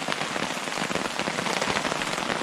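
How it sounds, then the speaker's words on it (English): Steady heavy rain drums on a tarp shelter during a wet night of wild camping in the UK, a dense, continuous patter close overhead with no voices. "I love the sound of rain on a tarp."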